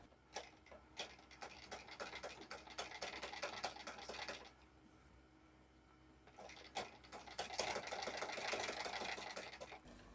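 A sewing machine stitches a blouse strip in quick rattling bursts of needle ticks, running for several seconds, pausing briefly, then starting again, close and fairly quiet.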